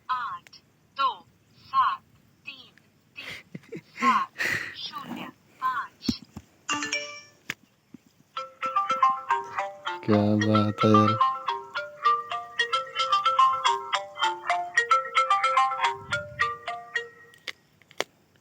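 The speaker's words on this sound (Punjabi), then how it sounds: "ਆਏ ਫੋਨ ਆਉਂਦਾ ਬਈ ਇੱਥੇ" A mobile phone ringtone plays a bright, repeating electronic melody for several seconds in the second half, loud and close, with people talking casually over it and before it.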